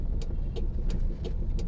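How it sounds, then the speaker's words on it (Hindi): A car passes on a busy roadside, its steady road noise rising and falling under a series of short bright clicks, fairly loud and close, with no talking. "देख गाड़ी आ गई थी ना अचानक, देख देख ये गाड़ी आ गई"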